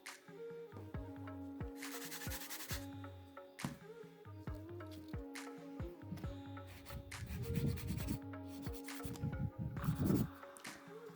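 A hand file works a nail tip to blend it into the natural nail, making soft, close, repeated rasping strokes in short bursts with brief pauses between them.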